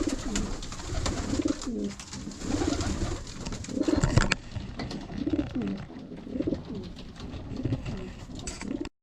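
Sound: pigeons cooing while being fed

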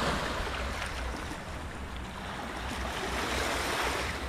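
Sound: beach with waves at Dunge River

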